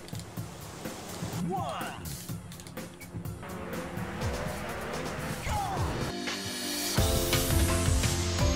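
A car in the stunt racing video game Shox drives with engine drone and short tire squeals over a game soundtrack, while someone talks over it.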